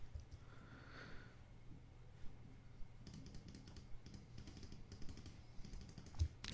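Keys tap on a computer keyboard, quiet and close, with a brisker run of clicks in the second half.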